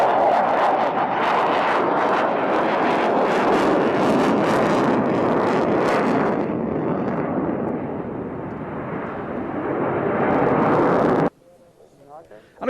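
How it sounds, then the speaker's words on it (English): A loud jet aircraft roars in on arrival at the Cottesmore air show, a thick sustained engine rumble that holds for several seconds, then thins out and cuts off abruptly near the end. "We're looking at Cottismore arrivals for their air show that they had"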